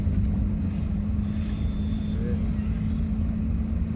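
A car driven along a main road, accelerating in third gear, makes a loud, steady low engine drone with rumbling wind buffeting against the microphone and no clear speech.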